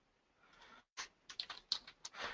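Quick keystrokes on a computer keyboard, a short burst of soft rapid clicks after a brief pause, faint and close with no speech over it.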